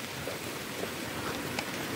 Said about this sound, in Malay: Hujan tengah lebat.